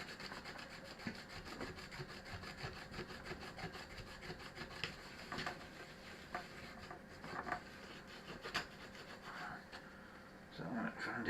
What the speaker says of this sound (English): So I'm going to find a clean bit of cloth now. Buff it up.